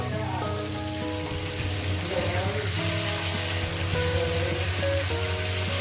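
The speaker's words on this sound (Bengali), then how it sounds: "আমি 3 পিস করে নিয়ে ভাজছি, 3 পিস করে দিলাম।" Pieces of rohu fish fry in oil with a soft continuous sizzle, heard under a faint background hum and tonal noise, with no talk.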